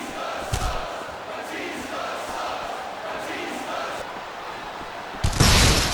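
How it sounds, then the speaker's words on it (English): A wrestling arena crowd cheers and roars steadily during a no-rules match, a dense wash of many voices with a loud burst near the end. "These superstars are beating the heck out of each other, and this crowd can't get enough of it."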